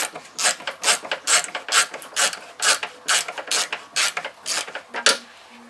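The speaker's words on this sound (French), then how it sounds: "Il n'y a pas besoin de la dévisser beaucoup." A ratchet working a fastener on a BMW E46 headlight assembly during disassembly, giving a rapid series of close, loud ratcheting clicks in a steady rhythm for several seconds.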